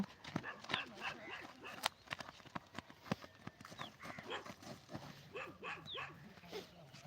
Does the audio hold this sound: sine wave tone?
no